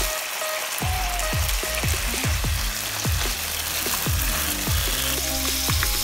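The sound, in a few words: black bean paste, fermented tofu paste and rice wine frying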